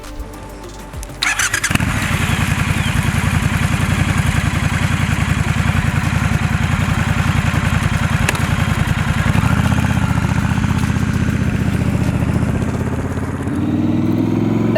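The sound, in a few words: 2019 Triumph Scrambler 1200 XC motorcycle engine running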